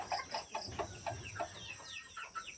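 A pumpkin sweater breed rooster on a farm gives a run of repeated clucks and short calls close by, with faint crow-like notes toward the end.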